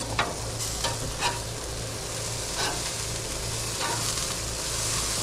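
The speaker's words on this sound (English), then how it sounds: "They fried up on the grill more than what I figured they would" Quarter-pound hamburger patties, part of six pounds of meat, sizzle and fry on a grill in a steady, dense crackle, with a few sharper pops breaking through the continuous hiss.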